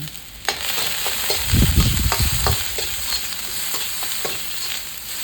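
Cabbage stir-fried with fish sauce in a pan sizzles loudly and steadily, with a surge of frying in the middle and scattered clacks of a utensil stirring against the pan.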